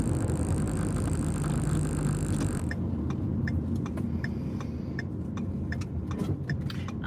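Road noise from inside a moving car, a steady low engine and tyre rumble throughout, with passing traffic briefly louder at the start and faint clicks like a turn signal ticking over the drone.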